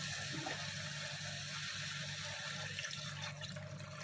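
Water is poured into a cooking pot holding chicken gizzards, a faint steady splashing stream running for about four seconds in a quiet kitchen.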